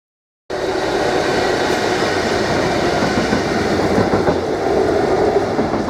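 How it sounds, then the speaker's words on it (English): A Class 66 diesel locomotive running light engine rumbles past close by, starting abruptly and holding a loud, steady roar with wheel and rail clatter and a faint squeal. "we just had a Class 66 locomotive pass through running light engine"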